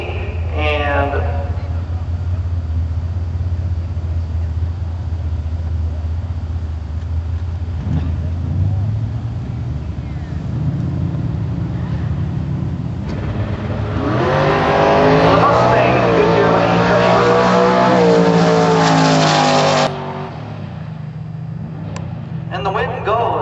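Mustang racing down a drag strip at a 10-second pass, its loud engine roaring throughout and building to a louder high-revving burst near the end, with a track announcer talking over it.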